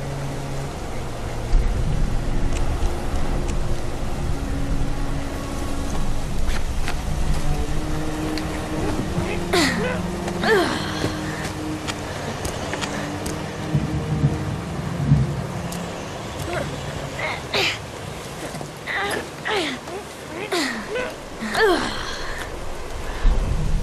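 Rain falls in the video game Heavy Rain, a continuous wash of downpour with low rumbling beneath it, while voices speak over the storm.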